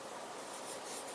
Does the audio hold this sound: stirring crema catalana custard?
no